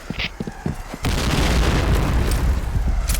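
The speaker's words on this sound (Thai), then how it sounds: "Fire in the hole! Fire in the hole! Fire in the hole!" A grenade explodes in a video game, a loud booming blast that hits about a second in and rolls on as a dense rumble, after some lighter game sounds and brief clicks.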